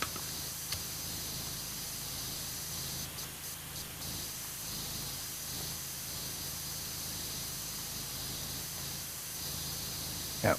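In PowerWash Simulator 2, a pressure washer sprays in a steady, continuous hiss that carries on without pause for several seconds, with a couple of faint clicks and no voices.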